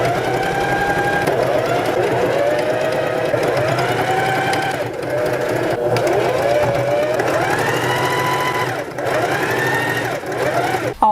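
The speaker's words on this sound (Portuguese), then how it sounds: "Você passa a costura aqui na sua marcação, tá?" A sewing machine stitches a pocket seam onto fabric, running steadily and close with a rapid mechanical whir and buzzing hum, speeding and slowing slightly in a few places.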